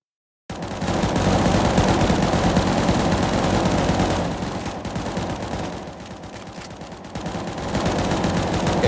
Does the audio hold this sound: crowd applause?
no